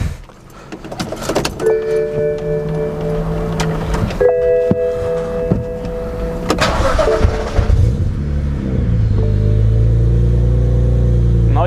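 A BMW N54 engine, freshly fitted with new spark plugs, cranks and catches after a few tonal electrical whines and clicks, then settles into a steady, loud idle close by.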